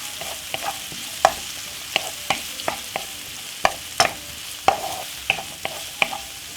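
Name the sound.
vegetables sauteing in frying pan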